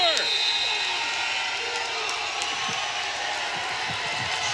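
Hundreds of spectators at a college wrestling bout between Cal State Bakersfield and Oregon State roar in a steady, dense wash of cheering and yelling, loud and continuous throughout, with a sharp whistle near the start.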